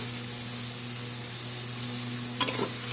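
Ingredients for fish-head moong dal are sautéed in a pan, a steady low sizzle with faint stirring, then a brief louder scrape and clatter of the spatula near the end; no talking.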